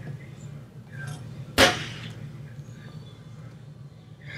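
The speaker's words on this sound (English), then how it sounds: "The gun effect might have been a little too early" A gun sound effect played from an app on an iPad: one sharp, loud broadband crack with a short ringing tail, standing out against a steady low background hum.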